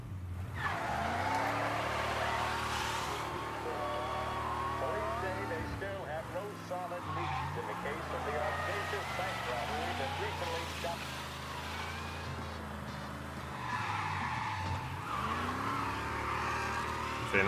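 Car in the game Mafia: Definitive Edition driving hard, engine droning and shifting pitch with tire squeal and skids, under steady game music and someone talking through most of it.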